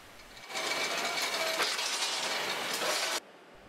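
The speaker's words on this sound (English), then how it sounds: "The pallet is then moved along to our fully automated robotic steel machine." An automated robotic steel machine in a precast concrete factory cuts and bends reinforcement steel drawn from coils, giving a steady mechanical whirring rattle with a few sharp clinks, lasting about three seconds before stopping abruptly.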